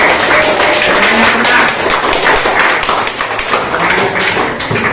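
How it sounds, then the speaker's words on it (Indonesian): Loud, busy clapping from a classroom of students, many hands beating in a fast, dense patter that stays strong throughout. "Tepuk tangan untuk itu"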